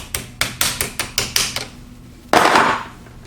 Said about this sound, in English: I'm going to hold this and then tap it in with a hammer